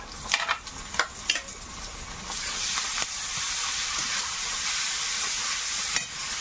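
Chopped onion and garlic, then ginger-garlic paste, frying in hot oil: a steady close sizzle and hiss with a few scraping stirs at the start, and no talking.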